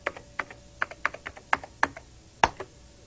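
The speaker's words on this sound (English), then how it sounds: "I type my password." A password typed on a computer keyboard with a System 7 machine in 1991, about a dozen crisp separate key clicks at an uneven pace, close and fairly quiet.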